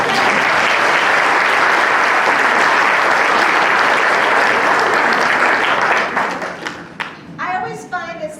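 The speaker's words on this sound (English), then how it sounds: "Let's give them a round of applause." An audience at an undergraduate information session breaks into loud, dense applause that holds steady and then fades to scattered claps, and a person begins speaking near the end.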